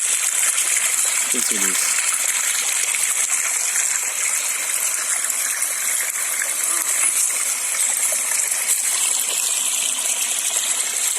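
Irrigation water gushing into plant beds in a nursery, a loud continuous rush of flowing water throughout, with someone briefly speaking over it.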